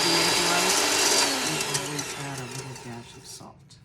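An electric mixer whirs steadily while beating egg whites with a dash of salt, its motor pitch shifting as it works, then winding down and stopping; a voice talks over it.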